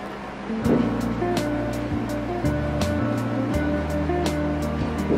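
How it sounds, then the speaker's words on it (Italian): A blender whirs loudly as lemon peel and sugar are blended for homemade lemon jam, a steady motor drone whose pitch steps up and down with bursts of sharper clatter. "E frullare ancora in modo tale che si mischia bene."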